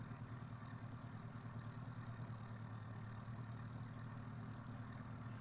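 Engines of a Piper PA-30 Twin Comanche in X-Plane 11 run at a steady, rumbling idle after start, a continuous low drone that holds even throughout with no talk over it.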